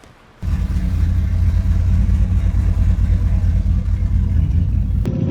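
A turbocharged Lincoln car with added nitrous fires up and roars into a loud, steady rumbling rev that holds for about five seconds before cutting off abruptly, close and alone.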